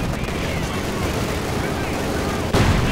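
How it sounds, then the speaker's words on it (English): Battle din from Company of Heroes 2, with T-34 tanks landing hits amid dense gunfire, blasts and rumbling explosions. Loud and continuous, with a sharper burst near the end and commentary talk over it. "Lots of hits going there from the T-34s."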